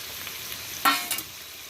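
Fried potatoes tumbling into a pan of sizzling coriander chicken curry, with a sharp burst of frying and a second short clatter of stirring against a quiet background.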